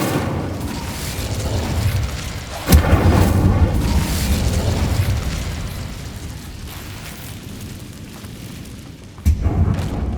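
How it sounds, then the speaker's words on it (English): An Incendio fire spell bursts in the video game Hogwarts Legacy, with a sudden loud boom followed by a rumbling, crackling roar that fades out, then a second sharp blast near the end. "Incendiary."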